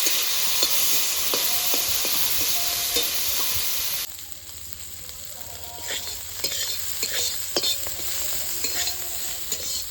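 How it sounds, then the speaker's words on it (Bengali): Salted, turmeric-coated prawns fry in hot oil in a pan, giving a steady, close crackling sizzle with sharp pops and spits throughout; the sizzle dips briefly partway, then resumes with scattered louder crackles. "তেলটা গরম হয়ে গেছে, এবার চিংড়ি মাছটা ভেজে নেব"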